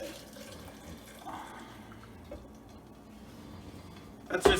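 Hot sauce liquid of vinegar, lime juice and agave nectar is poured from an Instant Pot insert into a container, a faint, soft trickle that ends with a brief, louder splash and clatter.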